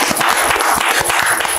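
Brief burst of audience applause at the start of a rock music talk show, with close, dense rapid clapping from a small group and no talk over it.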